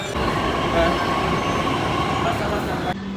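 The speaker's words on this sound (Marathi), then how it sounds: "आता चाललोय आम्ही मेट्रोनी स्वारगेटला" Steady low rumble of a moving metro train carriage, with a constant hum and rattle throughout, briefly dropping near the end.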